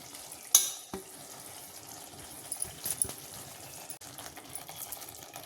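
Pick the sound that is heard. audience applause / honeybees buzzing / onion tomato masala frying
onion tomato masala frying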